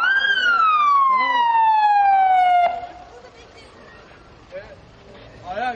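A loud ambulance siren wails once in a long falling sweep at an explosion scene on Kazancı Yokuşu, then cuts off, leaving quieter background with people talking and a few thumps.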